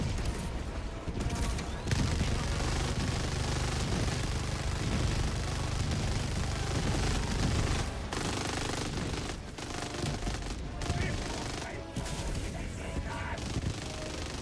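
Minigun fire in a video game: dense, continuous rapid gunfire and sustained bursts, loud and close, with a few brief pauses.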